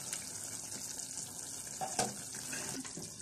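Beef liver curry (kolija bhuna) stirred in a pan, a steady close sizzle and frying crackle with soft scraping and a few louder clinks of the spoon against the pan.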